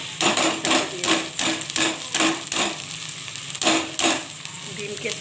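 Fish roe and boiled egg sautéing in a pan for a roe bhujia, a steady close sizzle broken by repeated scraping and stirring strokes of a spatula at an even rhythm, with no talk.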